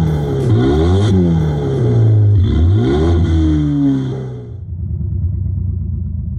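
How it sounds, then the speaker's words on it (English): Simulated car engine sound from an in-car sound system that follows gas pedal position, rising and falling in pitch like revving acceleration, loud and steady, then cutting to a lower idle-like rumble near the end. "The system features real car sounds, adjusting based on the gas pedal's position."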